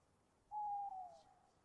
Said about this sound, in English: We will add in some owls.